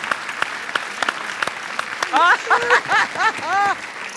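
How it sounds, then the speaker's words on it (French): Studio audience applause on a French television talent show semi-final, scattered claps building to a steady patter, with a voice speaking over the latter half. "Merci beaucoup, on l'applaudit"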